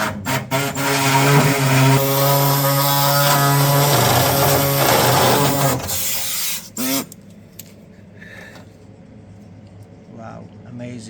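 An angle grinder works on the spot welds of a Nissan Skyline R34 GT-T body during a GT-R conversion. It whines loudly and steadily for several seconds before cutting out, followed by quieter shop sounds with voices talking.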